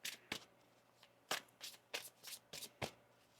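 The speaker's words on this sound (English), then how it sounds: "One more shuffle." Tarot cards being shuffled by hand, a run of crisp riffling bursts in an irregular rhythm with short pauses between them, close and fairly quiet, with no talking.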